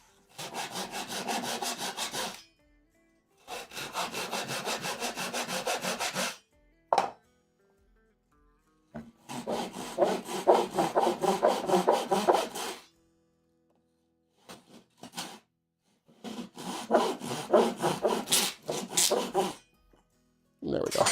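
Hand saw scoring wood along the kerf in rhythmic back-and-forth strokes, several bursts of a few seconds each with short pauses and occasional knocks between them, close and fairly loud.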